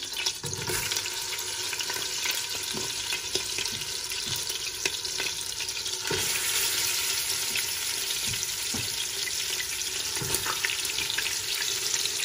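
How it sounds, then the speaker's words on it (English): Short ribs sear meat side down in a pan of hot butter on high heat, a loud, continuous close-up sizzle with scattered pops and crackles throughout and no voices. "Now we add our meat, meat side down"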